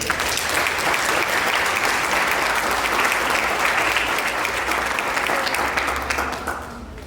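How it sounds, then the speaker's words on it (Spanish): A loud, dense burst of audience applause for panel members at a conference on lead, many hands clapping continuously for about six seconds before tapering off slightly. "pido nuevamente un fuerte aplauso para ellos."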